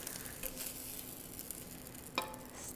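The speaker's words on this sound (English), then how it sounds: "I'm just going to put my eggs here. And I can hear the sizzle." Eggs fry in a hot pan with a soft, steady sizzle, faint and close, broken by a brief scrape or clink near the end; no talking.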